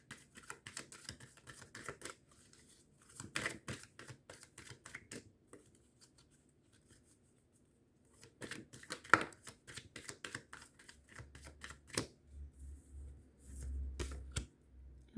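Tarot cards are shuffled by hand for a nine-card spread, with quiet bursts of riffling and soft slaps in irregular clusters and long near-silent pauses between them.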